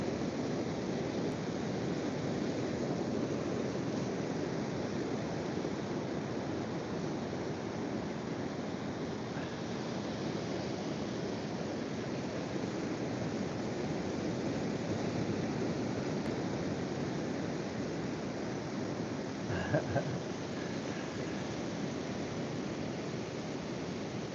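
Steady roar of ocean surf breaking at Seven Mile Beach, Gerroa, New South Wales, a continuous wash of waves heard from the shore with a brief knock near the end and no talking.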